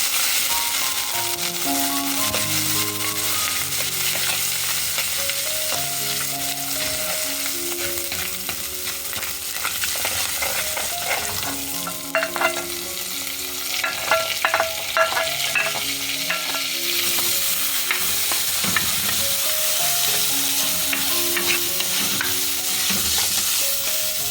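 Tempering ingredients fry and get stirred in hot oil in a clay pot, a continuous sizzle with scraping and rattling stirs, heard under background music with no speech.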